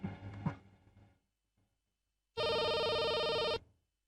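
A telephone rings once in a single loud, steady electronic burst of about a second, heard close and clear right after a short stretch of voices.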